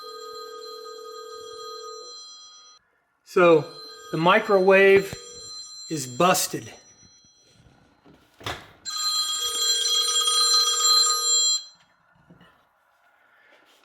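A cell phone inside a microwave oven rings in muffled, repeating electronic bursts, with someone talking briefly between rings.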